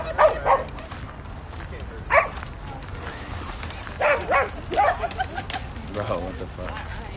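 Dogs bark outdoors in scattered bursts, a few sharp yaps near the start and a cluster later, amid ambient street noise and voices.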